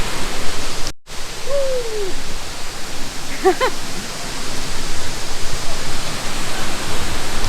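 Steady rushing water of a waterfall in Kodaikanal, India, fills the whole stretch, a constant broadband roar with one brief dropout.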